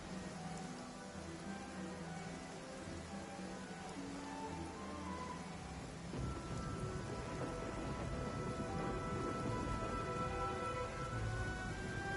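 Steady rain falling in Genshin Impact, a continuous hiss over layered game music, growing a little denser and heavier partway through.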